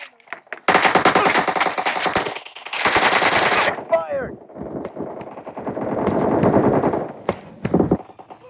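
Gunfire in PUBG Mobile team deathmatch: loud rapid automatic bursts in two long volleys, then scattered single shots and more firing amid game effects.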